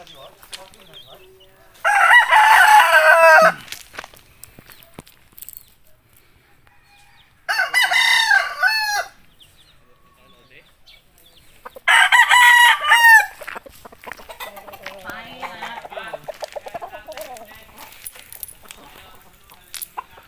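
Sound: roosters crowing

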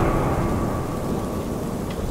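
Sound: rain and thunder in video game Slender-Man Mansion

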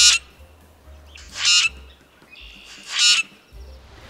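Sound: grackle call

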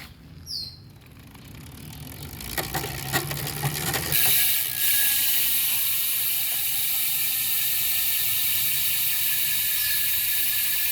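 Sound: freehub ratchet clicking of Visp SL bicycle wheel

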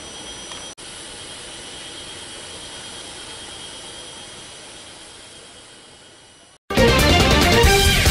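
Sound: presidential helicopter departing

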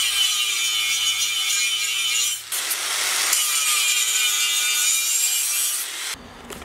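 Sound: grinding filler to reshape a smashed wheel's edge

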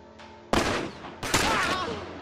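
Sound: gunfire in the video game The Last of Us

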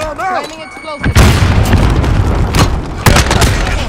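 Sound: stun grenade explosion, from the video game Call of Duty Modern Warfare

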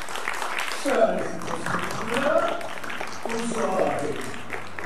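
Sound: audience applause for Nina Morris Lee

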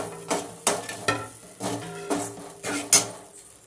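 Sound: sautéing roasted coconut and cashews in a pan

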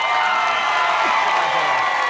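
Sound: audience applause and cheering for César Arturo

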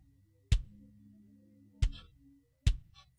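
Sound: soloed kick drum track

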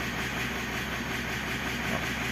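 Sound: Mitsubishi Triton 4N15 engine starting, out of timing

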